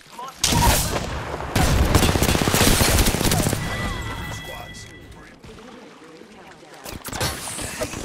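Gunfire in a zombie shooter game: heavy, sustained bursts of shooting with crashing impacts, loud and dense, fading into quieter game noise and then a few more sharp shots near the end, with a voice talking over parts of it.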